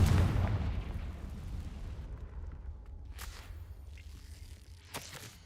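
A Confringo fire spell blast in Hogwarts Legacy: a loud fiery burst that fades into a low rumbling tail, with two sharp crackling pops later on. No voices.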